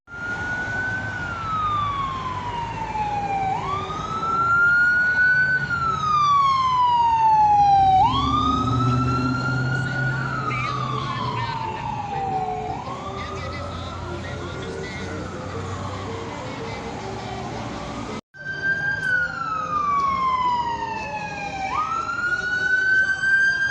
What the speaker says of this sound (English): I hear a lot of sirens.